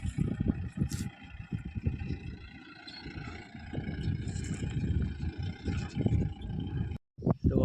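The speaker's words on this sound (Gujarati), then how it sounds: "જો ગાડી આવે છે" A Bolero vehicle coming up on a farm track near a standing bajra field, heard as a steady, rough, low rumble with windy buffeting that runs throughout and briefly cuts out near the end, no voices.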